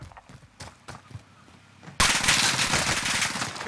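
Automatic gunfire erupts in a battle royale shooter, a dense, loud, sustained burst of rapid shots following a couple of seconds of quieter scattered thumps and movement.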